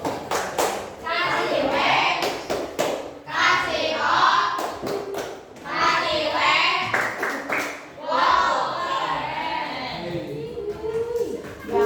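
Children in a classroom lesson perform the rhythmic 'tepuk wow' clapping chant, sharp hand claps in quick bursts mixed with loud chanting voices, repeating in several waves.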